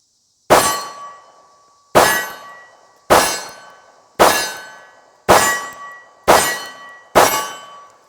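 Seven sharp gunshots from a Ruger 1911 pistol with an aluminum frame, fired one at a time at a steady pace of about one per second, each a loud crack with a short ringing decay.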